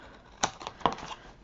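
A few quick, crisp snips of scissors cutting paper close by, two sharper cuts followed by lighter clicks.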